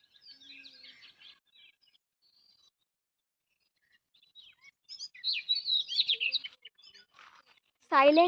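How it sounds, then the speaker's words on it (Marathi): Small birds chirping in quick, high bursts, sparrow-like calls near and far on farmland, with quiet gaps between and a louder call at the end. "मध्ये इतको पक्ष्यांचा आवाज इतको छान ऐका"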